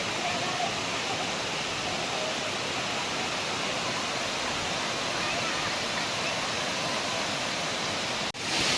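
Water rushes over a dam in a continuous broadband roar, steady and dense from start to finish, with a brief dip near the end.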